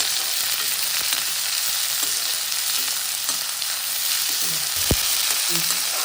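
Turmeric powder and onions fry in hot oil for chapati kurma, giving a bright, continuous close hiss with occasional soft clicks of a spoon stirring through the pan; nobody speaks.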